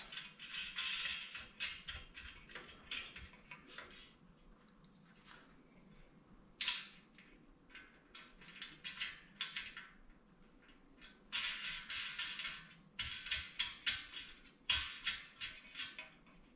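Metal wing nuts are spun down by hand onto bolts while assembling a Flame Master grid holder, giving faint, irregular bursts of small metallic clicking, rattling and scraping with brief pauses between them.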